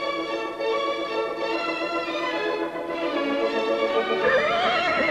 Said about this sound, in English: the horses have just come back to the ring after that race